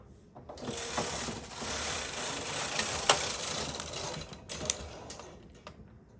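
A knitting machine carriage rattles across a row of chunky yarn, giving a steady mechanical clatter with sharp clicks and a ratcheting tail as it finishes the pass, close and fairly loud.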